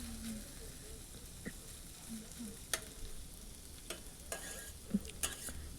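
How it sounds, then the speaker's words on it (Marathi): Onion, tomato and bitter gourd fry quietly in a kadhai, a soft low sizzle broken by a few sharp scrapes and taps of stirring. "कांदा, टोमॅटो आणि कारली व्यवस्थित अशी छान खरपूस होतील अशी भाजून"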